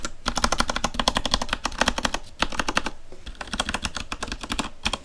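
Rapid, close clacking of keys on a mechanical keyboard, typed in dense bursts separated by brief pauses, loud and clear with no talking.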